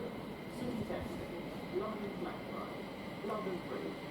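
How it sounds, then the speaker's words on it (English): A 12-car Thameslink train rumbles through West Hampstead Thameslink station, a steady low roar with faint wheel clatter, while someone talks over it nearby. "Nice big 12-car train."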